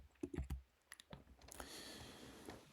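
A few light computer mouse clicks while selecting a video type in the Canva editor, crisp and close, followed by a soft steady background hiss.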